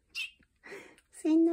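A cat meows once, close and fairly loud, at the end of some brief talking.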